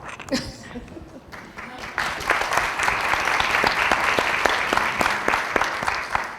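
Applause from an audience at an equity summit plenary in Baltimore starts thin and scattered, then swells into steady, full clapping that holds to the end.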